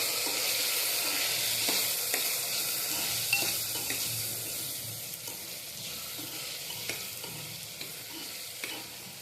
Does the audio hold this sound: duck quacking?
no